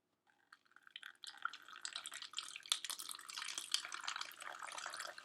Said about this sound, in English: hold it still and pour the vinegar in